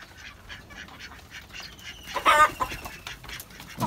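Chickens kept on a rooftop, clucking in short repeated calls close by, with a louder squawking burst midway over a steady background of clucks.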